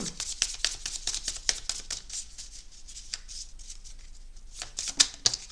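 Tarot cards being shuffled close by, a quick series of crisp riffling flutters and soft slaps repeating in bursts, fairly quiet and with no talking.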